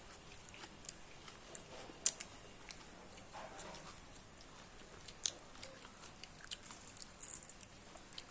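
Puffed rice mixed with coconut being eaten, faint close crunching bites and chewing in irregular bursts over quiet background.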